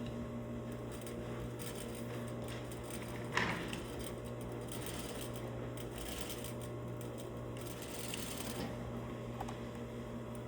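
Sewing machine stitching a lapped zipper, doing a regular stitch with a back stitch, a steady fast mechanical whir and clatter running throughout with one brief knock.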